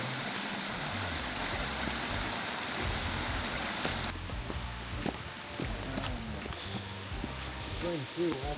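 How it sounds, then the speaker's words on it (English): Roaring Brook Falls rushes as a continuous broadband roar of falling water that fills the background, while people talk nearby over the steady torrent. "There's a reason it's called Roaring Brook Falls."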